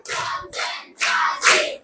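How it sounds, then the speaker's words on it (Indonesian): Children clap their hands in a chant count, bursts of loud group clapping and shouting in quick separate clusters, close and energetic. "Tepuk empat."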